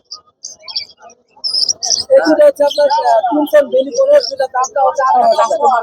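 Caged birds at the Mirpur 1 bird market chirp and tweet in sharp bursts, first alone and then under a man's close, loud talking.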